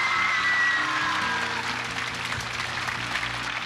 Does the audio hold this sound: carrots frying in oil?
no